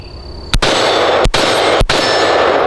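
Three loud, sharp gunshots from a loaded AR-15 pistol with a 7.5 inch barrel, fired close up with uneven gaps between them, each crack followed by a short ringing tail.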